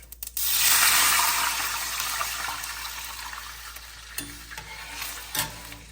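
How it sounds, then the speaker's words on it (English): Two cups of water poured loudly into a hot seasoned pan for upma, hissing and sizzling sharply at first, then settling into a steady bubbling simmer with a few clinks. "Here I'm going to go ahead and add the 2 cups of water."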